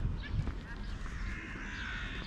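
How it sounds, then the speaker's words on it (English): Gulls call near a ramp where birds gather, harsh, raspy cawing cries, a few short ones early and a longer drawn-out call after, rising over a dense, noisy outdoor background. "A good number of gulls today."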